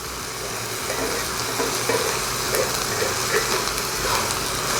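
Butter sizzles and fries in a pan with vegetables for egg fried rice, a steady broadband hiss held at an even level throughout with faint stirring, no talk.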